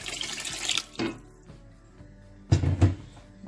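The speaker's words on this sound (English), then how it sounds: "add extra water" Extra water pours from a kitchen tap into a pot of yam porridge with curry and meat stock, in two distinct bursts of running water, fairly close, with quiet pauses between.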